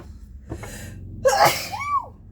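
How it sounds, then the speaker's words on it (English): Two sneezes in quick succession, the second louder and sharper, followed by a short rising-falling vocal squeal, close to the microphone. "Wow, that's a lot of sneezing."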